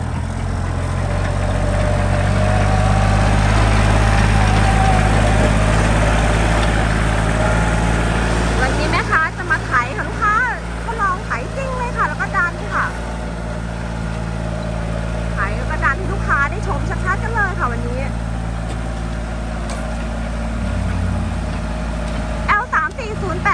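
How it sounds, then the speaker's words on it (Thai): A used 2008 Kubota L3408 tractor engine runs with a steady, deep diesel drone. Clanking and mechanical rattles join in midway, and a voice talks over the engine for part of the time. "แม่ค้าจะมารีวิววิดีโอการทำงานของรถไถคูเปต้า L3408 ปี 51 ค่ะ"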